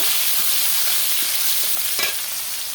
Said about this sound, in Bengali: একই তেলে দিয়ে দেবো পেঁয়াজ, দিয়ে দেব সামান্য হলুদ। এবার ভালোভাবে নেড়ে চেড়ে নেব।